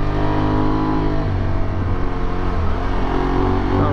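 An Aprilia Tuareg 660 adventure motorcycle with a quickshifter downshifting into second on a highway tour, the engine note droning steadily and close with a shift in pitch partway through, loud wind rush over it.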